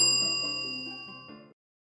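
A single bright notification bell ding rings out alone, clear and close, then its metallic tone decays steadily for about a second and a half before cutting to silence.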